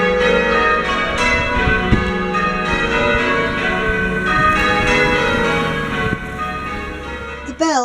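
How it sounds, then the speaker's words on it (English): Church bells peal continuously in a village during a WW1 commemoration, a dense ringing wash of overlapping tones with strong, sustained strikes throughout, fairly loud and close. "The bells rang out once more."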